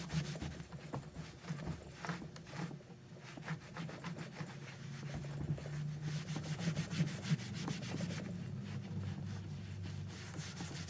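Cloth rubbing and polishing the leather case of an RCA 3-BX-671 radio, a continuous soft rhythmic swishing and scrubbing, close and fairly quiet with no voices.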